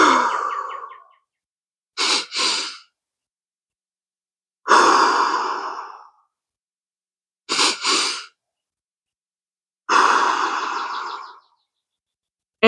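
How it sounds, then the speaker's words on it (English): Breathing exercise: two quick sharp inhales followed by one long, drawn-out breath, repeated in a steady cycle with silent pauses between, close and clear with no talking. "it's 2 breaths followed by 1 long inhale"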